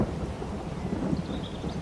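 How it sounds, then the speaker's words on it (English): Steady in-game rain in Farming Simulator 22 with a low thunder rumble beneath, a continuous dense hiss at even loudness and no voices. "So that's literally just started raining."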